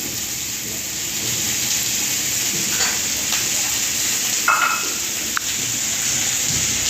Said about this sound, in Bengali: মাছের মাথা পেঁয়াজ লঙ্কা এইসব দিয়ে এখন ভাজাভাজি চলছে